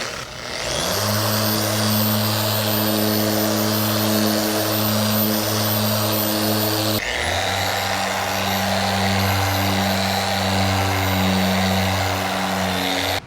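Small orbital polisher sanding and buffing out a dust nib in fresh car paint, a steady close motor whine with strong low harmonics running throughout, briefly pausing near the middle then resuming with a slightly shifted pitch.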